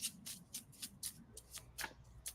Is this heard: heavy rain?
no